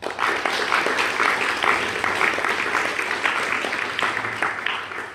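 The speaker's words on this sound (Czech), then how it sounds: "Takže privítanie k potlesku." An audience at a Christian families' gathering claps steadily, with dense, continuous applause holding at an even level from start to finish.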